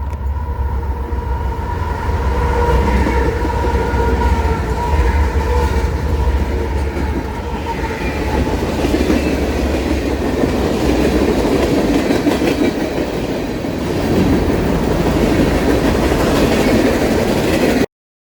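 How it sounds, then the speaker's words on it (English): A CSX freight train, M605, rumbles past up close with four locomotives, the Family Lines heritage unit CSXT 1972 trailing third. Its loud, steady roar and rail clatter run throughout and stop abruptly at the end. "Mullet Motor Heritage Unit CSXT 1972, painted to honor the family line system, would trail third of 4 on its maiden voyage on CSX"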